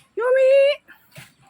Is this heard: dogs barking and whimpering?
yes